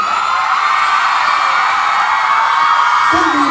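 Audience at a live concert at The Promenade screaming and cheering, a loud sustained wall of shrill crowd voices with whoops rising above it.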